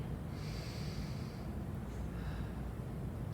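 During a balance class, a single deep breath draws in and out through the nose, close and steady, with a soft hiss that runs the whole way through and no talking.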